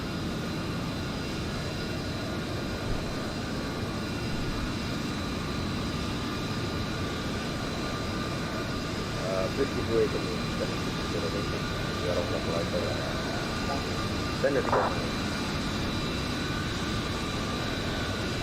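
An A32NX airliner in Microsoft Flight Simulator decelerates on a short runway after touchdown, a steady loud engine and rolling roar with faint rattles and brief bumps, while someone talks over it.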